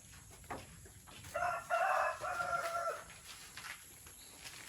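A rooster crows on a farm, a loud drawn-out cock-a-doodle-doo in the middle, with fainter clucking from other chickens before and after and no talking.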